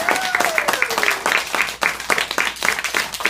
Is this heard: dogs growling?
no